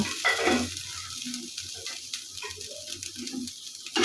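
Dried shrimp (ichha shutki) crackles as it fries in a pan on a gas stove, a steady close sizzle with scattered small pops and some stirring scrapes throughout.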